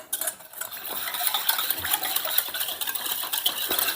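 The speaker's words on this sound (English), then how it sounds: "I'm going to whisk that all together." A whisk rattles briskly against a bowl as it mixes apple cider mop sauce ingredients for barbecued baby back ribs, making a steady, close metallic clatter of fast irregular strokes with no talking.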